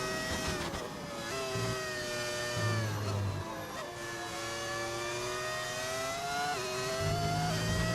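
Cadillac Formula 1 car engine in the F1 25 racing game, a sustained high-pitched whine rising and falling with gear shifts and acceleration, loud and continuous throughout.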